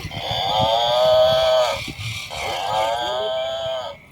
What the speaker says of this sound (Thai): แล้วก็มีพี่บัฟฟโลควายมอ มอมอมอ มานี่